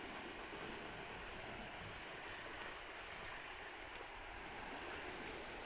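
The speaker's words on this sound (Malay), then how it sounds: "Ini dah ada ombak." Sea waves at a beach beside a mangrove area roll in a steady, broad wash of noise that stays faint and distant throughout, with no talk.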